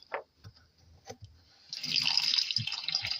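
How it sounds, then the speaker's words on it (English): A few soft taps and clicks, then a faucet on a sailboat's pumped freshwater system opens and water pours steadily into a sink, a continuous close hiss and splash. "run like a normal house faucet"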